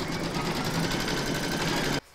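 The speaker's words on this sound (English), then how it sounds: "You can now pop your hoop back into your machine and stitch round number five" Embroidery machine stitching round five of a large llama appliqué in a hoop, a steady, loud, continuous whir that stops abruptly near the end.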